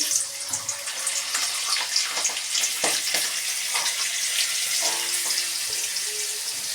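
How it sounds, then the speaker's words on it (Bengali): Soaked chickpeas hitting hot oil tempered with bay leaf, cumin and dried chili, giving a steady close sizzle with a few scattered clicks and spatters throughout, no speech. "আমি এবার একটু ছোলা ভিজিয়ে রেখেছিলাম, আমি ছোলাটা দিয়ে দেবো।"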